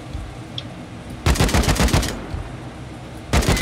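AK rifle fire in the game Rust: a rapid burst of several loud, sharp shots, a short pause, then a second burst starting at the very end.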